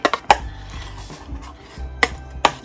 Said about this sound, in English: I try to mash this down so I can try to get the lumps out.